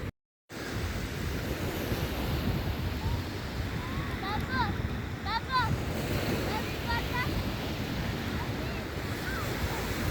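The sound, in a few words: sea waves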